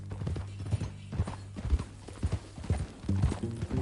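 Horse hooves clip-clop at a moderate pace on a ranch, close by and irregular, mixed with low rumbling background noise and no talk.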